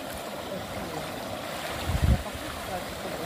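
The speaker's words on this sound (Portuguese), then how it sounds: "Corre água direto aqui" The Ipojuca river flows past in a soft, steady outdoor wash of running water, with a brief low thump near the middle.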